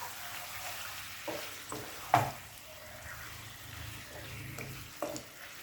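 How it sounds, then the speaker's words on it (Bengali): Chicken pieces with tomato and green chili fry over a high flame, giving a quiet, steady sizzle broken by a few sharp scrapes and clacks from stirring. "চিকেনটা দেওয়ার পর গ্যাসটাকে হাই ফ্লেমে রেখে 5 থেকে 6 মিনিট নাড়াচাড়া করব।"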